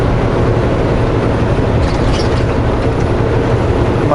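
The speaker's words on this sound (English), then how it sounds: "Must be a train behind us that's coming the same direction as we are." Train rolling along near a highway, heard from inside a moving car as a loud, continuous rumble with rail clatter blended into road noise.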